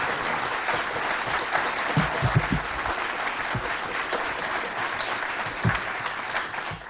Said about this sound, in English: please give a warm round of applause to Mark Phillips and Cathy OBrien